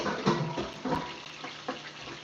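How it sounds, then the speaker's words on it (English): Jamaican escoveitch sauce being poured over fried fish, a soft wet splashing and trickling with a few brief louder spatters, close and fairly quiet. "So you get some of the sauce now, I will pour it over the fish."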